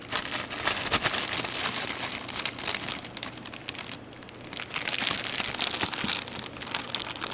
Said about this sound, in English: so let's get him out of the plastic bag.